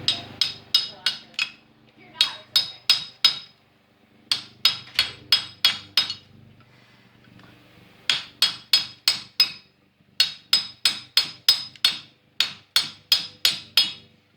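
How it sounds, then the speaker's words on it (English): A flat-ended spanner wrench taps a motor coupler into place on a Whirlpool direct-drive washer, sharp metallic strikes in quick bursts of four or five, repeated in groups with short pauses, loud and close. "this is a spanner wrench right here. It has flat ends, so this is perfect for tapping the part in."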